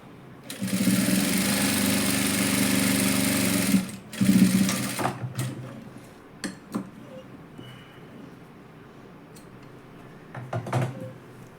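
A sewing machine stitches a cut-side dress in a loud, fast continuous run of about four seconds, then a brief burst, followed by quieter handling clicks and rustles.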